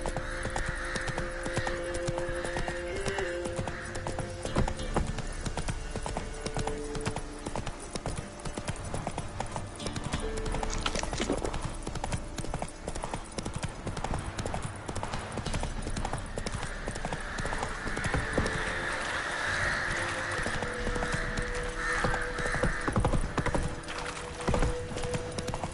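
Horse hooves clip-clop steadily at a gallop in The Witcher video game, a continuous rhythmic clatter running the whole time under game music and ambience, with a brief whinny and some talk from game characters.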